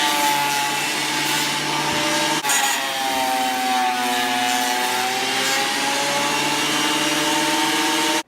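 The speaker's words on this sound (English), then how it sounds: "I'm going to be running this thing through my planer" A thickness planer roars steadily as it shaves a red cedar slab, a loud continuous machine whine with a brief dip partway through.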